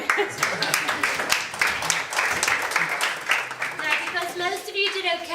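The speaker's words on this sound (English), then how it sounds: "give them all a big round of applause" A small group claps at a whiskey tasting in the Jameson distillery in Dublin. The individual claps are distinct and sharp, and they ring out alongside some chatter and voices in the room.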